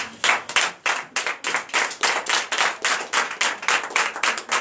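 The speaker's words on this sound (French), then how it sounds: "Veuillez vous lever et donner de vives acclamations à notre Seigneur Jésus" A church congregation at a night deliverance service claps in a steady, fast unison rhythm, loud and close, with each beat sharply defined.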